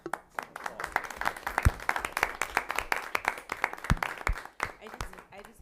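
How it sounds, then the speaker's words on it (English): Audience applause at a school board of education meeting in Hastings on Hudson, a steady patter of many hands clapping at moderate distance with a few louder close claps, lasting several seconds. "So you deserve some applause."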